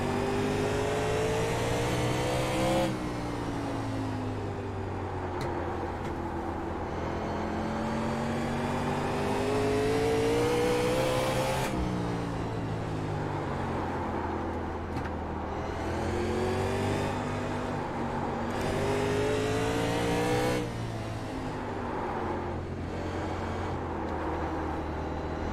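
A race car engine drones continuously in iRacing during a grassroots league oval race, rising and falling through repeated rev sweeps as laps go by, loud and steady with no gaps.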